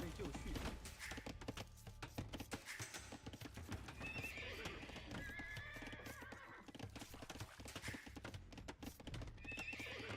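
Scout cavalry horses in the Age of Empires video game whinny several times over a steady patter of clip-clopping hooves and battle ambience, while a commentator talks over the game sounds.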